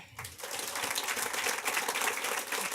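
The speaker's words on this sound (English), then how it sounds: "Please welcome, under a big round of applause, here on stage, Nadine Angerer." An audience at a games and tech conference in Cologne breaks into steady, full applause as a speaker comes on stage, building quickly and holding strong throughout.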